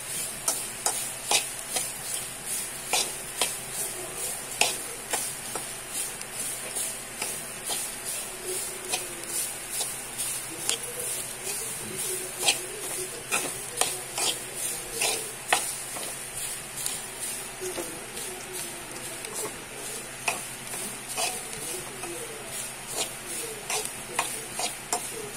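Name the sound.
grated coconut and turmeric dry-roasting in a pan without oil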